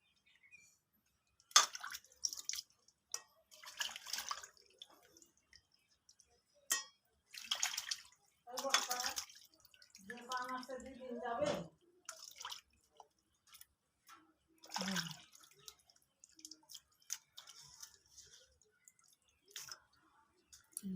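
Fish are washed by hand in water, with intermittent splashing, dripping and squelching handling sounds in irregular bursts, fairly close and moderately quiet.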